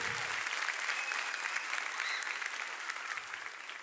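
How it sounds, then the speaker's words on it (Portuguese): Congregation in a church applauds for Jesus, a steady full round of clapping that slowly eases in level toward the end, with a voice faintly audible at moments. "Dá uma salva de palmas para Jesus aí"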